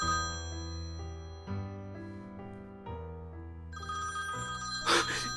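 A telephone ringing in a series of bright electronic tones that step through changing pitches, fairly quiet and heard alone with no voices.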